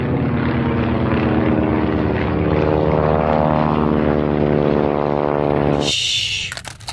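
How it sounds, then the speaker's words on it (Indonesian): Blue and white aerobatic propeller airplanes roar loudly overhead, the engine drone holding steady with a rising and falling pitch sweep before cutting off abruptly near the end into a brief rustle. "Ini pesawat terbang aerobatik."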